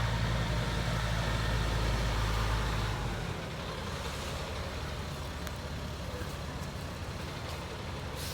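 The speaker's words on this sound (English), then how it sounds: "And then Johnny gonna be bringing that tow truck in, gonna back it up straight through there." A tow truck rumbles close by with a steady, loud engine drone that drops to a lower, rougher idle partway through as it maneuvers, with no talk over it.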